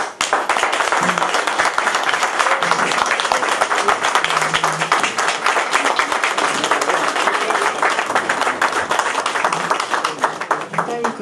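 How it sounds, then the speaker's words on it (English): A conference audience in New York gives a standing ovation, dense sustained clapping filling the room steadily for about eleven seconds, loud and continuous throughout. "give Madam President Marina Zongo a stand of applause"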